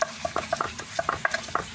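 Jakaba mushroom culture crushed by hand, giving a run of soft, irregular squelching and patting sounds with occasional wet clicks, close and fairly quiet, with no talk.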